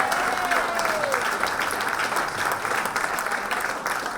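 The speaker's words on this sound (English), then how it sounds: "Another round of applause for this master of jazz." A jazz audience applauds a musician with dense, sustained clapping that fills the room at full volume, joined by a brief faint whistle near the start.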